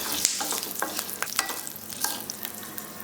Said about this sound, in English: Saute them on low flame for a minute